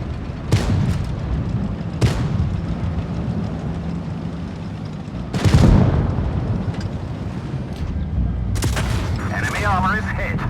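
Shell impacts on an enemy tank in the WoT Blitz tank game ring out as several sharp booming hits over a constant battle rumble, one heavier blast standing out midway, with game voice callouts present.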